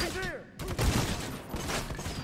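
Gunfire from a weapon in the video game Necromunda: Hired Gun, a sharp burst of shots cracking out and then rumbling away over a noisy in-game background, with a brief voice near the start.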